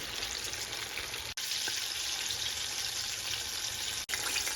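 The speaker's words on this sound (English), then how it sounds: "And now we fry." Steady broadband sizzling of chicken wings frying in hot oil, continuous and fairly close, with two brief dropouts.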